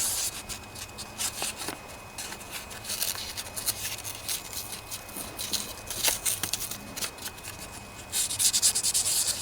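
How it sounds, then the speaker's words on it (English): Fine grit sandpaper rubbed over rusty ball bearings from a junkyard Snapper riding lawnmower, a steady close scratchy scraping in uneven strokes that grows harsher near the end, with no talking. "I'm going to scuff them up with some fine grit sandpaper here and make them all shiny again"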